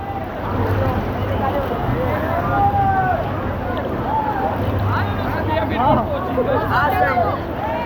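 Strong waves surging at a water park, a steady rushing wash of water under a busy crowd of voices and shouts, continuing loud and close throughout.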